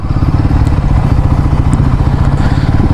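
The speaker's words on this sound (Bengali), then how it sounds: "তো মোটামুটি বাইকটা আগে পার্ক করি" A motorcycle runs loudly and close by while being parked on a Kolkata to Purulia bike trip, its engine thrumming in a steady rumble with light clattering.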